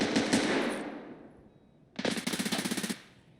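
In Escape from Tarkov, a heavy gun fires from a distance: one booming shot trails off, then a rapid burst of about a dozen loud, evenly spaced rounds rings out.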